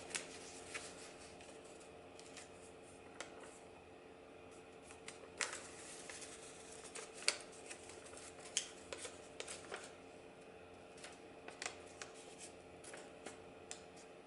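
Paper flaps being folded along dotted lines in a paper-craft lesson: scattered soft crinkles and sharp creasing clicks over a steady faint background hiss, close by with no talking.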